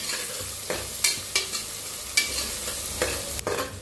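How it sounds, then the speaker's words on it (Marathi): Curry leaves and spices sizzle as they roast in a pan for a Marathi-style masala rice, a steady crackling fry broken by occasional sharper pops and stirring scrapes, close and with no talking. "ह्याच्यात टाकूया कढीपत्ता, छान असं भाजून घेऊया।"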